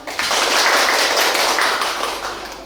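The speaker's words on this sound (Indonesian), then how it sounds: "kasih tepuk tangan" Children in a primary school classroom clap together in a brief, fairly close burst of rapid hand claps that tapers off slightly over a few seconds.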